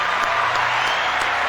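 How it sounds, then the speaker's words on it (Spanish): Audience applause at a church tribute event honoring memorized Scripture: dense, steady clapping from a crowd, fairly loud and continuous with no pauses, filling the whole moment. "¿Por qué no aplaude conmigo?"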